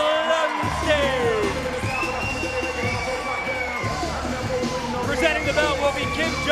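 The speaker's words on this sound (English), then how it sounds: "Let's have a big round of applause for your push champion, Jesse Lumsden." Crowd at a bobsleigh push championship cheering and clapping for the winner, a steady loud roar of applause and whoops with an announcer's voice over it throughout.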